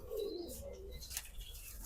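A female pigeon of the chohy breed coos in a soft, close, brief run of low warbling notes over light background noise.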